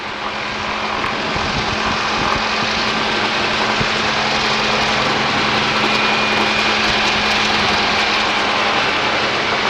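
A 1943 Harvard training aircraft at Duxford roars through its takeoff run, the radial engine and propeller producing a loud, steady, broadband drone with a low hum that stays close and constant throughout, with no talk over it.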